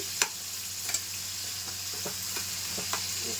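Frying lentil fritters (minapa garelu) are stirred in a pan, with a few soft scraping clicks spaced over a quiet, steady sizzle.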